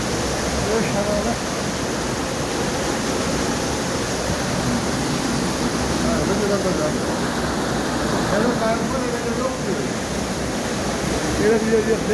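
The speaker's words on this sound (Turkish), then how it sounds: "Büyük şelale." A large waterfall roars in a dense, constant broadband rush, loud and close, while people talk over it now and then.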